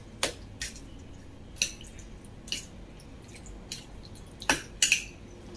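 Pork ribs being mixed with marinade in a bowl, giving scattered wet squishes and light clinks of a utensil, a few soft hits then a sharper cluster near the end, close and fairly quiet with no talking.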